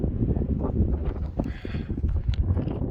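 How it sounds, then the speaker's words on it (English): Gusty wind buffets the microphone in uneven, rumbling blasts on the summit of Vermilion Peak in the Ball Range, with faint scattered knocks beneath it. "It's getting windy up here,"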